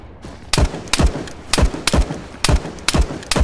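Gunfire in the video game Arma 3: about eight sharp, loud shots in an uneven rapid rhythm, each a broadband crack with a low thump, fired close by with no talk.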